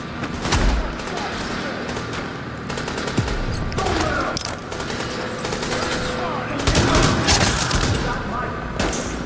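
Rapid automatic gunfire and sharp sniper shots ring out in The Division video game in Times Square, bursts and single cracks repeating over the whole stretch with thuds and booms, and a player's voice occasionally heard beneath.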